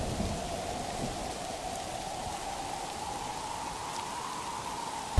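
Heavy cartoon rain and storm noise roar as a dense, steady hiss of downpour, loud and unbroken throughout, with no voices.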